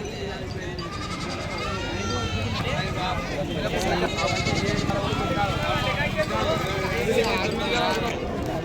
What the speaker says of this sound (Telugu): మొత్తం ఇవి వచ్చేసి 41 గొర్రెలు ఉన్నాయి, ఒక 10 దాకా పిల్లలు ఉన్నాయంట